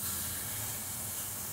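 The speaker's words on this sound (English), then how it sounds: "You can hear that sizzle." Continuous bright hissing sizzle of grapeseed oil in a hot skillet before searing ribeye steak, steady and close, with no pauses or other sounds.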